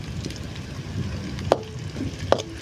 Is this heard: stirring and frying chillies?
yes